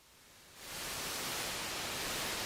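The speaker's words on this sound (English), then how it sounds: "it sounds like a white noise generator almost" A synthesizer's noise oscillator set to white noise switches on about half a second in, becoming a steady, loud, full-band hiss that holds unchanged to the end.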